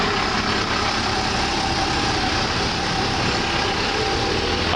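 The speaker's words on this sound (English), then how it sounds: "let this truck go by." Heavy truck rumbling past at close range, a steady loud engine drone and road roar that fills every second without pause.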